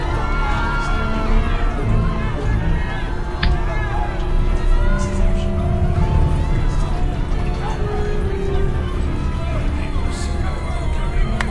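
A theatre audience in the video game Perils of Man cheers and applauds after a debut performance, producing a loud, dense wall of crowd noise with scattered shouts that runs steadily throughout.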